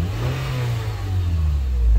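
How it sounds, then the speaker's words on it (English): A parked Honda CR-V engine revs once, its low rumble swelling steadily from idle into a louder, rising roar, close and alone with no talk. "I'll just give it a quick rev for you"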